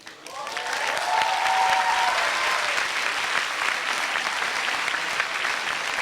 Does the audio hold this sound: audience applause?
yes